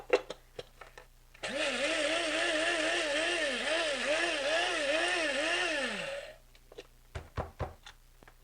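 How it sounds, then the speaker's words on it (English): A kitchen blender grinds cashews toward a fine powder, a loud, continuous motor whine with rhythmic wavering pitch lasting several seconds, followed by short clicks and knocks after it stops. "I'm going to grind it just a few more seconds."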